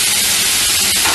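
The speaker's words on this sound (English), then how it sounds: "The steam is because of the power in the FlexiChef." Steady, loud steam hiss from chicken browning in an MKN FlexiChef commercial kitchen unit, a continuous broadband rush with no speech, close and even throughout.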